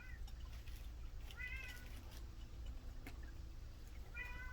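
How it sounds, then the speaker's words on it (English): A cat meows repeatedly at a door indoors, short rising calls spaced a couple of seconds apart over a steady low hum, quiet and fairly close. "Always fun when the cat is at the door."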